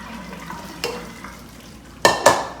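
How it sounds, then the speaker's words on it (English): Boiled instant Shin ramen noodles are drained in a kitchen, with a quiet rustle and then two sharp clanks of a pot or strainer near the end. "So I'm just gonna drain the noodles first."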